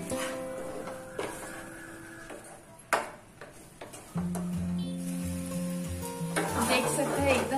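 Sugar is stirred into a thickening kalakand milk mixture in a pan at home, with scraping strokes, a few sharp clinks of the spoon against the pan, and a soft steady sizzle close by.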